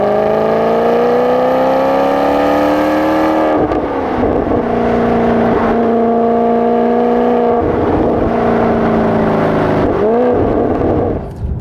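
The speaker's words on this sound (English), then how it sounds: "And at every point during that rev range, it sounds absolutely glorious." A 2010 Maserati GranTurismo S engine climbs through its rev range toward the 7,500 rpm redline, loud and close, its rising tone dropping back at each shift and climbing again several times.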